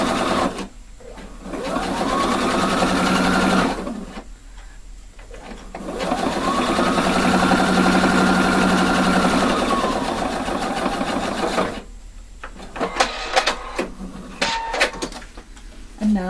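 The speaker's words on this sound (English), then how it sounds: "stitch it from the wrong side in exactly the same stitching I just done." A sewing machine stitches a front zipper with facing in two long, steady runs of fast mechanical whirring, each lasting a few seconds and separated by pauses, followed by brief clicks and handling noises near the end.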